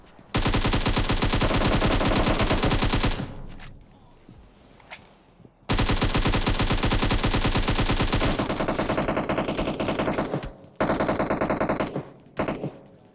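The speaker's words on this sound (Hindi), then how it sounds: "मैं भैया लेफ्ट में गोली चलाए जा रहा हूँ, पूरी गोली पेल दी वहां पे" Automatic rifle fire in PUBG Mobile, likely a Groza, rattling in long loud sustained bursts with short pauses between, close and dominant.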